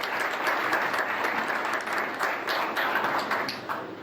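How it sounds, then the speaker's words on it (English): Church congregation applauding student ministers and Minister Charles after their words; a moderate, continuous patter of many hands clapping that tapers slightly toward the end, with no talk over it. "let's give them all a round of applause for their words"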